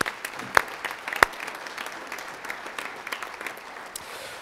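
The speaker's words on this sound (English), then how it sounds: "Can we give those folks a round of applause?" Audience at an annual meeting of the LPEA electric cooperative applauding the staff, steady clapping from a sizable crowd with a few sharp louder claps, no talk.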